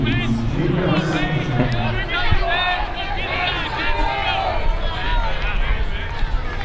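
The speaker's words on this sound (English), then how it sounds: "Remains a boisterous crowd here at RAP." A boisterous crowd at a baseball ballpark in the afternoon, steady loud babble of many voices and cheers filling the air, with a commentator talking over it.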